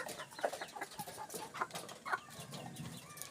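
Chickens clucking close by in a small farm setting, several short overlapping clucks at a quiet level with no talking.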